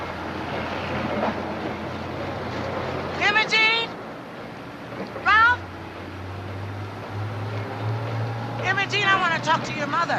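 A cat meows in a few short, clear calls, one repeated cry near the start, another midway and a cluster near the end, while a rumbling train and people talking sound in the background.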